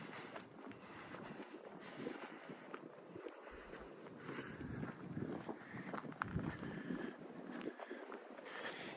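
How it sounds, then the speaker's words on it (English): Gusty wind beside a lake rumbles against the microphone in uneven low bursts, fairly loud and close, with faint water and outdoor ambience underneath. "It is windy out though."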